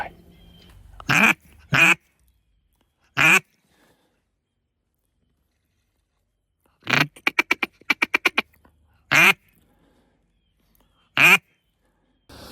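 Ducks quack in loud, close bursts: a few separate quacks, then a rapid chattering run of calls, then more single quacks spaced apart, with silence between and no talking, outdoors at a duck hunt.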